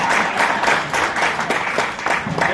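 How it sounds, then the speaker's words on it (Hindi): An audience at a cotton farmers' fair in Ratlam claps in a loud, continuous round of applause. The sound has a steady, dense texture with small swells from start to finish. "अब तो ताली बजी है"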